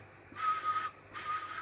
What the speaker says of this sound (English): Yeah, my whistle's terrible.